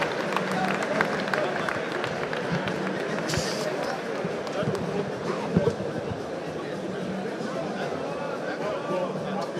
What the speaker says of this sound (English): the crowd, of course, giving her a round of applause as she deserves for her debut here in the African Knockout Championship